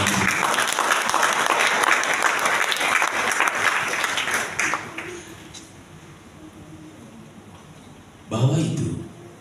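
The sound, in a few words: congregation applauding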